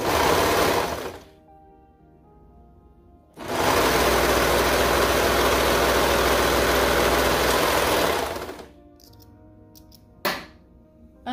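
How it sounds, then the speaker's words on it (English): A serger stitches the side seams of a crop top in double brushed poly fabric, its motor whirring loudly in two close bursts, a short one and then a longer steady run, with a brief blip near the end. "Serger makes it go a lot faster, in my opinion"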